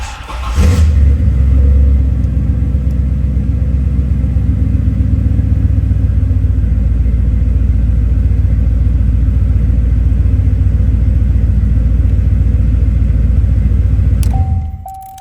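A C4 Corvette engine runs steadily after a fuel pump replacement, a loud, close, constant low rumble that holds for about fourteen seconds before cutting off.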